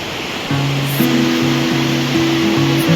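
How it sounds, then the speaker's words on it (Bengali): A strong mountain stream rushes in a steady, broadband roar, with a low musical tone pattern playing over the water noise. "প্রচণ্ড ফ্লো আছে জলের"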